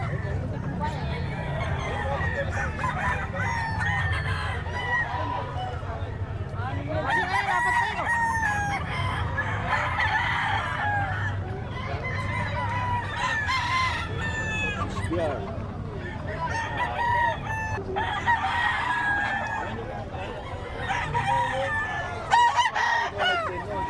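Several roosters crow and chickens cluck at a pet market in Bocaue, over a steady background din of voices and crowd noise, with birds calling repeatedly throughout.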